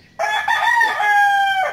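A rooster crows once, a loud, drawn-out cock-a-doodle-doo close by, with no voices around it.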